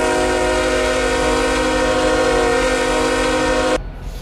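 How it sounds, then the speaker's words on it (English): A Canadian Pacific freight train horn in the RO-Scale Sandbox video game blares as one loud, sustained multi-tone chord for nearly four seconds, then cuts off abruptly to a low rumble. "Sound the horn."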